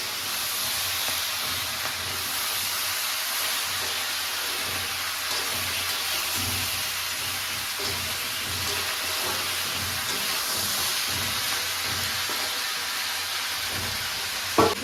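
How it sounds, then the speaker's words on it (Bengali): Vegetables and green chillies sizzle in a hot pan with a steady, moderately quiet hiss that runs unbroken from start to finish. "দেখো এই সবজিগুলো সব দিয়ে দিচ্ছি। হ্যাঁ, সবজির সাথে আমি কাঁচা লঙ্কা অ্যাড করে দিয়েছি।"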